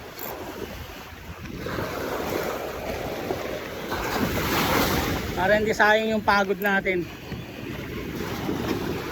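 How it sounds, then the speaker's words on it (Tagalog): Large ocean waves surge and wash in a broad rushing roar at a fishing spot in Saipan, with wind noise on the microphone, while someone speaks briefly in the middle. "Yung lalaki ng alon no. Grabe."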